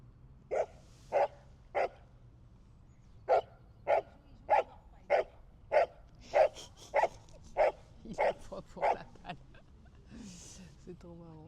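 A dog barks repeatedly in a steady rhythm, about fourteen sharp loud barks in a row, followed by a quieter stretch with some noise.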